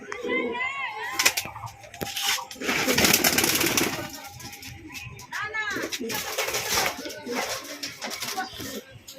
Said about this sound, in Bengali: ছাড়ছি পায়রা।